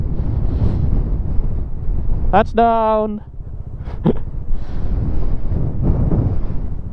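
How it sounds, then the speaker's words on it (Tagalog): Strong wind buffets the microphone in continuous low rumbling gusts on a mountain road under construction, with a brief shout and excited voices breaking through the roar. "Lakas na yung hangin."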